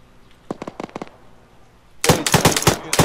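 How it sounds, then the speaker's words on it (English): Machine gun fire at a bunker in the video game Arma 3: a short burst of a few loud shots, a pause, then a dense, sustained volley of sharp reports close by. "Red team engage bunker with mass machine gun if possible."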